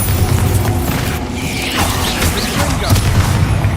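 Bombarda spell explosions in the Hogwarts Legacy video game, a dense run of booming blasts and crashing impacts over a constant loud rumble, with game clatter throughout.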